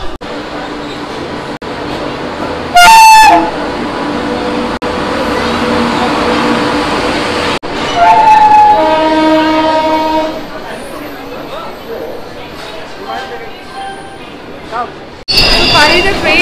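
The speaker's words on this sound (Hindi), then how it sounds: "Finally the train is here." Sampark Kranti Express arriving at a platform, with a long steady rumble of rolling wagons, a couple of loud horn blasts and squealing brakes, and people talking nearby.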